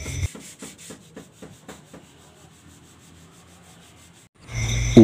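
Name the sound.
sanding car body filler with 80-grit sandpaper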